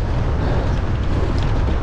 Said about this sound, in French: Oh, on va galérer avec ce vent.